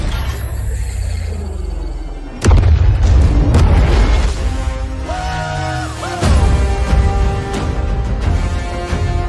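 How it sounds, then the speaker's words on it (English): In a video game trailer, a bomb drops and explodes with loud, deep booming blasts, first sudden and heavy, then a second strong explosion later amid rumbling debris and whooshing effects. "Target locked. Dropping bomb."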